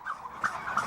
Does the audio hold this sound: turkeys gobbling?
yes